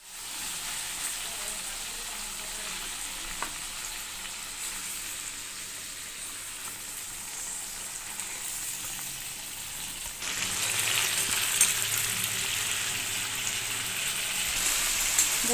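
Fish pieces fry in oil with cooked-down spiced masala, a soft continuous sizzle like light rain that grows noticeably louder and brighter partway through as more fish goes into the pan.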